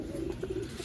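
Pigeons in a loft give a brief, soft low cooing, a couple of throaty warbles close by over a faint hiss, lasting under a second.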